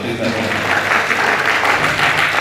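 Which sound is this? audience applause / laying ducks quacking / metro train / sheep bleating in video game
audience applause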